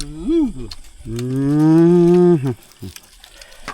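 A cow moos loudly and close by, with one short call followed by a long, sustained low moo, heard beside a pond during a fishing trip in rural Thailand.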